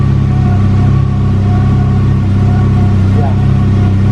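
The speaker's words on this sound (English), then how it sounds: "Rev it up" A 1985 VW Scirocco Mk2 engine runs close by with a steady, throaty drone, holding an even pitch with only slight swells in speed.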